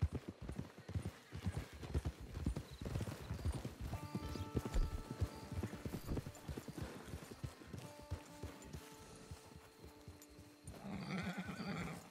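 Horses in the Red Dead Redemption 2 video game: a steady, close clip-clop of hooves throughout, with a whinny breaking through midway and a faint whinny later, no talk.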